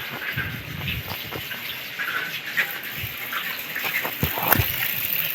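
Water gushes from a motor pump pipe into a tank, sputtering on and off in uneven bursts as a close, steady rush with splashy surges, alongside faint background voices.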